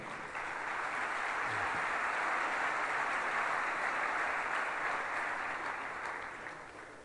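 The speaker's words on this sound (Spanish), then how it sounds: "Nuevamente un aplauso de bienvenida." A conference audience at a development and peace panel gives a welcoming round of applause, a broad, even rush of many hands clapping that holds steady for several seconds before tapering off.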